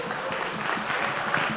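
Steady broadband applause from an audience, filling the clip at an even level with no clear breaks, during a talk on law enforcement.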